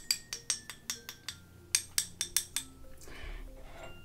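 A series of light, bright glassy clinks from glass nail files tapped one after another in a quick, uneven rhythm, followed by a brief soft rustle; close and fairly quiet.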